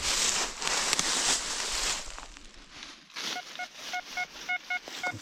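Rustling and crunching footsteps through brush, then a short series of evenly spaced electronic beeps from a metal detector signalling a find while searching for First World War artifacts.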